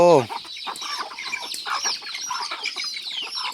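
Nearby chickens keep up a steady chatter of quick clucks and chirps, beginning with one sharp loud call followed by a dense stream of softer overlapping notes.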